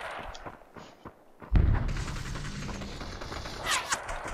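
Gunfire in the VR battle game Population: One, a sharp boom followed by a rumbling tail and scattered distant shots over faint ambient game sound.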